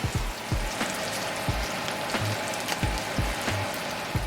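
Bacon fries in a pan with a constant crackling sizzle and frequent soft pops and spits of fat, close and fairly loud throughout.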